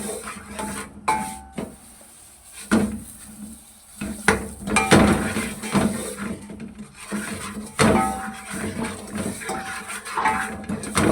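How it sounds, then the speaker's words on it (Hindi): Semolina for suji kheer is stirred and fried on low heat in a pan, with a spoon scraping and clinking against the metal in irregular taps and rubs, close up and without talk. "आपने इसको हल्की आंच पे फ्राई करना, जितनी देर इसकी खुशबू नहीं आएगी"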